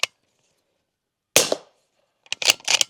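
A suppressed bolt-action .300 Blackout rifle firing full metal jacket ammo outdoors: a sharp crack at the start, a louder shot with short ringing tail, then a cluster of quick clattering reports near the end.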